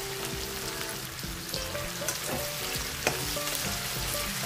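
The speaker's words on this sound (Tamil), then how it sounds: "வெண்டைக்காய் வளவளப்பு தன்மை போகிற வரைக்கும் வதக்கணும்" Okra sautéing in a pan for a Chettinad vendakka mandi, a dense, steady close sizzle with scattered scraping and stirring clatter throughout.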